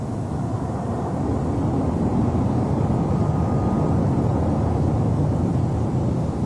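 Boeing 707 Dash 80 prototype jet airliner passing overhead during early flight testing; a steady, loud broadband jet roar that swells slightly and holds throughout, with no voices.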